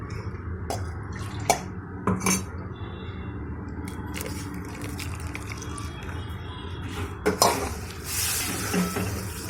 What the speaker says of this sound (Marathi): कंटिन्यू आपल्याला ते हलवावं लागणार आहे कारण गाठी झाल्या नाही पाहिजे